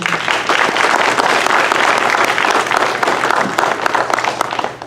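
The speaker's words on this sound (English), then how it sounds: "will you help me give them a round of applause again?" Steady, dense applause from a gathered audience honoring museum commissioners and staff at a community event, sustained at an even level for several seconds before tapering slightly at the end.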